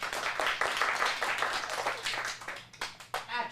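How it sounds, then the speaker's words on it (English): A short burst of audience applause in an acting class, a dense patter of clapping that tapers into scattered claps near the end. "Let's get a round of applause."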